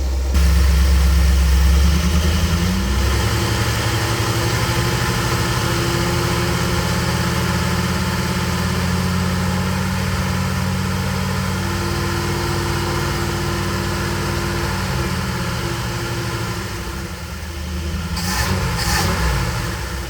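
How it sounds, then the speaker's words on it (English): A 1964 Ford Galaxie 500 engine with a replaced carburetor is revved through its RPM range, loud and close, a heavy rumble rising and falling and then settling toward idle before a brief final blip. "let's give it some throttle all the way through the RPM band"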